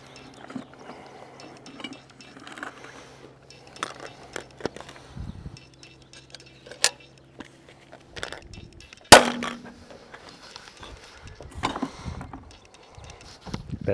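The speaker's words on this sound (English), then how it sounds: "And I'm going to use the rivet gun." A rivet gun sets a rivet into a boat's mast step, giving one sharp, loud snap partway through amid scattered quieter clicks and handling knocks.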